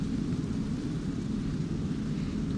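C-130J transport plane from the ARMA 2 combat game, climbing out just after takeoff from an inclined runway with its flaps left up. A steady, loud, deep engine drone with broad rushing noise holds unchanged throughout.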